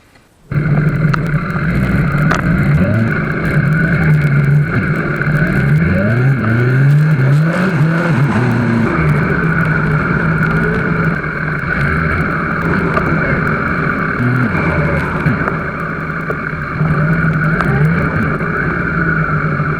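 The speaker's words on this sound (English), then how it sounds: "we're going to drive down to Costa Mesa and see Chris" A vehicle towing a motorcycle down the road: a loud, steady engine drone with a constant whirring tone, a few small shifts in pitch as it accelerates, heard close and continuous throughout with no talking.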